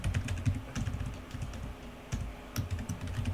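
Computer keyboard typing as code is entered, a steady run of close, crisp keystrokes with brief pauses, no voices.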